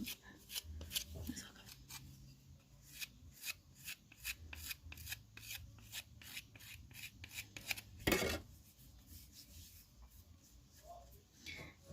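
A ceramic pinch pot being burnished by hand, quick repeated scraping and rubbing strokes in short bursts, close and fairly quiet, with one heavier rub partway through.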